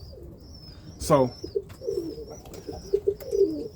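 Birmingham Roller pigeons cooing softly in a loft, several short low coos spread across the moment, with a brief word spoken nearby and faint high chirps in the background.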